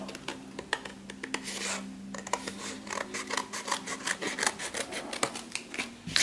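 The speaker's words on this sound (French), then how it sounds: "Donc je vais découper ça" Scissors cut paper card around an oval shape, with crisp repeated snips and rustling at close range, a rapid irregular rhythm and no voices.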